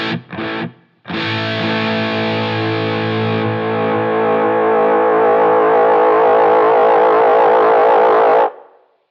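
Transistor tape delay on a Line 6 Helix modelling a Maestro Echoplex EP-3, its feedback swelling into a loud, sustained, distorted wash of oscillating noise after two short stabs, holding steady before cutting off abruptly.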